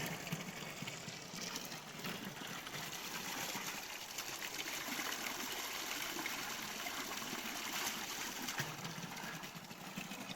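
Spring water flowing steadily in a Konkan village, a continuous broadband rush with a constant level throughout, close by and with no voices.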